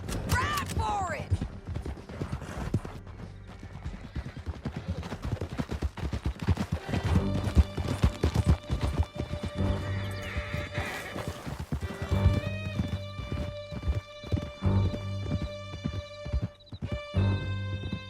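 Horses gallop hard in a Red Dead Redemption 2 chase, with steady hoofbeats and whinnies running through the whole stretch. Voices talk over the riding.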